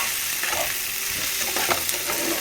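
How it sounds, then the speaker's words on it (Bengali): Meat with spices frying in oil, with a dense continuous sizzle up close and soft scraping of stirring mixed in, steady throughout. "ঝাল এই মশলা কম দিয়ে মাংস রান্না করছি"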